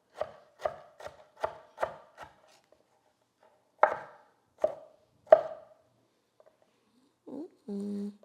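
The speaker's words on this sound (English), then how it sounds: "I really like when you cut it relatively fine" A knife chops ingredients finely for Olivier salad on a board: a quick run of six crisp chops, a pause, then three slower, spaced strokes, followed by faint handling noises.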